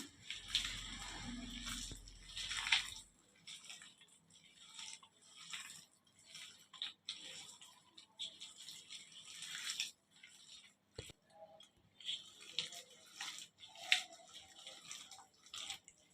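Soaked sago pearls being mashed by hand in a bowl give soft, wet squelching and dripping sounds, faint and close, in irregular bursts.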